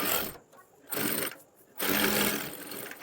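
A sewing machine stitches a fabric neckline in three loud, steady whirring runs separated by short pauses, with faint talk in the background.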